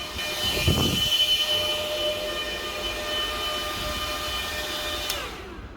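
An Iceriver KS3L Kaspa ASIC miner runs loudly at close range, its fans giving a steady broadband roar with high whine tones that holds throughout, then cuts off near the end.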